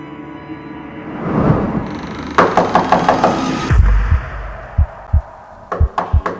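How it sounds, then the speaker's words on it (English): A series of sharp, loud knocks echo through a house in an animated spooky story, coming in quick bursts of several raps and then again in a short cluster at the end, over a murky background rumble. "A loud knock echoed through the house"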